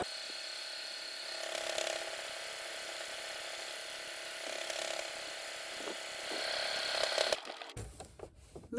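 A sewing machine running on its own to stitch a buttonhole, a fast, even mechanical whir with ticking gear rhythm for most of the stretch, stopping abruptly near the end into quieter handling clatter.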